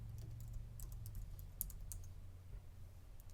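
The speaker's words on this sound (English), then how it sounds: "I just type in the word Wonderings." Fingers typing a word on a computer keyboard: a quiet run of light, rapid key clicks over a low steady hum, with no talking.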